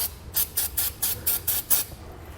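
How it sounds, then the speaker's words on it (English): Penetrating oil sprayed onto rusty exhaust hanger bolts on a 2015 Nissan Xterra, six short hissing bursts from an aerosol can in a steady rhythm, close and fairly loud. "we're going to go ahead and spray them down with some penetrating oil"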